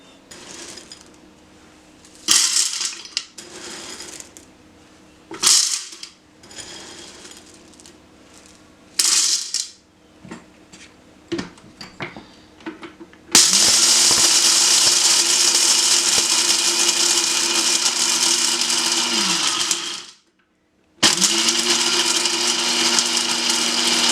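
An old, cheap blender grinds dried corn into homemade cornmeal in a kitchen: scattered clattering knocks first, then a loud, steady whirring grind runs for several seconds, stops briefly, and starts again.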